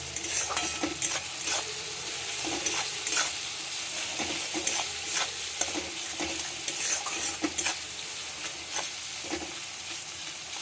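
Chopped onion, garlic and green chili with salt fry in mustard oil for a beetroot mash, a steady close sizzle punctuated by repeated spoon scrapes and stirring clatter against the pan.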